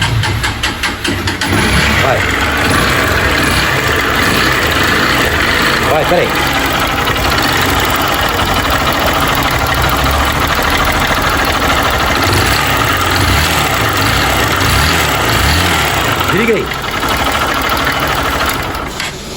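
A Yamaha Crosser 150 motorcycle, its engine rebuilt two months earlier, idles loudly and steadily with an abnormal knocking from the rocker-arm area. People talk briefly over the running engine.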